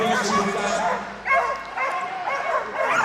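Several dogs yip and bark in excited, high-pitched bursts over a busy background at a flyball competition, growing louder after a brief lull.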